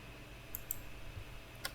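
A computer mouse right-clicking while working in the Unity editor, with a few faint, sharp clicks spaced apart over a quiet background hum.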